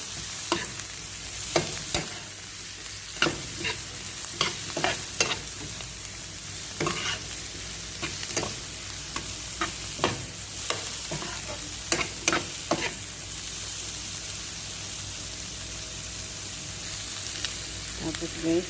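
Fried rice ingredients with black pepper and curry powder are stirred and tossed in a pan, a steady sizzle carrying close, repeated scrapes and clacks of the spatula at an irregular rhythm, with no one talking.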